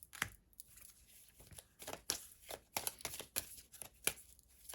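Crisp, rapid riffling of playing cards being shuffled up close, in several quick bursts with short pauses between them.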